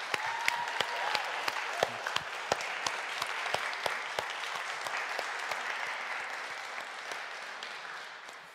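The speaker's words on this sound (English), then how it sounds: "So give a clap and offering to the God." A church congregation claps during a worship service, scattered individual claps standing out at first over a softer wash of group clapping that gradually fades, fairly quiet overall.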